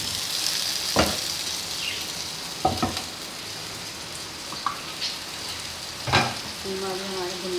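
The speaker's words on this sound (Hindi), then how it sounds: "बाकी मिर्चों को थोड़ा सा फ्राई करके उसका कच्चापन जो है वो हटा देंगे।" Chilies fry quietly in a karahi for a keema dish, a soft low sizzle broken by a few sharp spoon clinks and scrapes against the pan.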